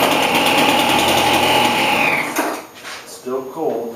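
A Craftsman leaf blower's small two-stroke engine on half choke runs at a high, steady whine, then dies away after about two seconds as a voice talks nearby.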